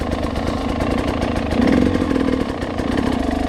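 A motorcycle engine idles steadily close by at an off-road practice spot, a low, even putter that swells briefly in the middle before settling back, with no talking.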